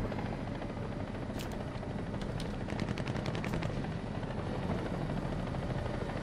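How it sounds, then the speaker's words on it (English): A helicopter flies in the War Thunder video game, its steady rotor drone running throughout. Rapid bursts of gunfire rattle partway through. "Oh, a helicopter."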